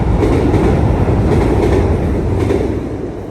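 A small train with only a few wagons rolls past in a Belgian town. The sound is a steady, loud rumble with faint clatter, and it eases off slightly toward the end.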